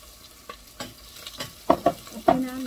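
Onion frying in a pan as a spoon stirs it, with a low sizzle beneath several sharp scraping and clanking strokes that come in quick bursts toward the end.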